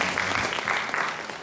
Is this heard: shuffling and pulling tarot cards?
no